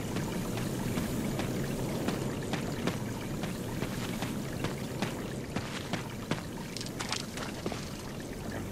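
Water flows steadily in an underground lab in Resident Evil Remaster, a continuous rushing wash with scattered faint clicks and splashes, moderately loud and unbroken.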